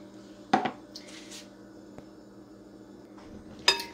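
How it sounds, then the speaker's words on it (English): A spoon stirs sweetened condensed milk in a bowl for a butter brickle frozen dessert, with two sharp clinks against the bowl and soft scraping between them, close and fairly quiet. "So we're just going to stir up the sweetened condensed milk."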